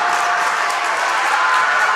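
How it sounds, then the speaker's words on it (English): Home crowd at a Tri County Tournament championship basketball game cheering and clapping in the closing seconds, a steady wash of distant applause and voices filling a gym. "The crowd now comes to life and is clapping on the hometown"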